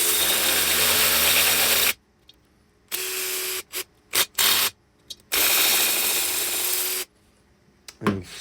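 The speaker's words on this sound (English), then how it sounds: "I'm just using the electric impact right now" Electric impact driver chasing threads on a 1972 Harley XLCH Ironhead rocker box part, loud whirring ratcheting bursts in several runs, a few long and some short taps, separated by quiet gaps.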